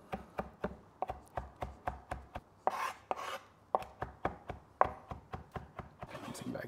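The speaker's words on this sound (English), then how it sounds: "We're just gonna roughly chop." A knife roughly chops fresh Greek oregano on a board: quick, crisp taps in a steady rhythm, close and clear, with brief scraping rustles between the strokes.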